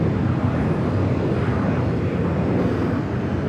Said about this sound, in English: Dreamliner, Flight 6, heading back to Tel Aviv, now pushing back from the west gate.